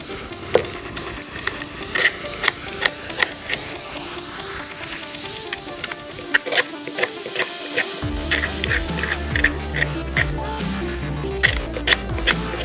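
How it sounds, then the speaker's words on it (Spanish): A blade scrapes the enamel coating off the ends of magnet wire for a homemade electromagnet, giving quick irregular scratchy strokes up close, fairly loud and alone without talk. "La primera es con una cuchilla, le vamos raspando hasta que le quitemos todo el esmalte."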